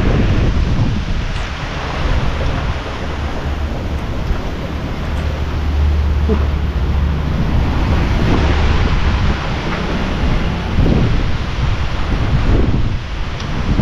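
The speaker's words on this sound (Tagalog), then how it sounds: "malakas yung ulan dito sa taas" Dense, steady roar of heavy rain mixed with gusting wind, loud and continuous throughout, with no voices.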